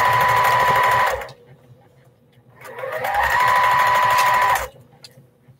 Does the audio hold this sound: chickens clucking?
no